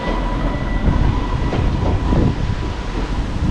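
A train rumbles and rattles through Sandown station on the Isle of Wight, with steady loud rolling wheel noise and clatter throughout, close by and without talk.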